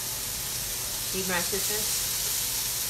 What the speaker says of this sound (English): I've got 2 tablespoons of minced garlic that's going in there.